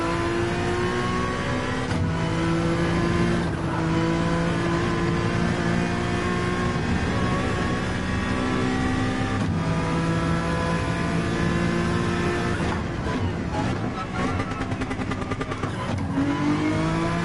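Race car engine in Gran Turismo 7 at the Nürburgring, revving loud and continuous with rising and falling pitch through gear changes and engine braking, close and alone without talk.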